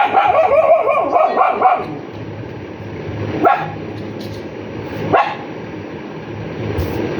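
A dog gives a drawn-out whining howl, then a few sharp single barks spaced apart, close and fairly loud.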